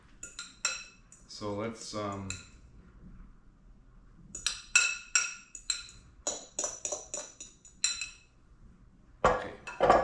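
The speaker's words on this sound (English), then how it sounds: "let's mix this grated butter into it right here" A fork scrapes and clinks against a bowl while grated butter is worked into biscuit dough, giving repeated uneven taps and scrapes close by, with a person talking briefly at the start.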